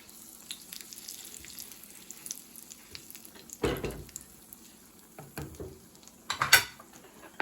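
Corn cinnamon bun pancakes cooking in a pan give a soft, low sizzle throughout, broken by a few sharp utensil scrapes and clatters against the pan.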